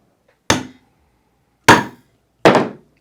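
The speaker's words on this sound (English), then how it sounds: "Just a couple whacks to get it flattened out" A hammer strikes a metal snap setter on leather three times, sharp close whacks with short ringing decays, two spaced apart and the last following quickly.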